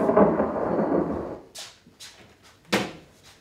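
Thunder from a local storm: a low, heavy rumble rolls for over a second, then gives way to several sharp, separated cracks, one strongly loud near the end.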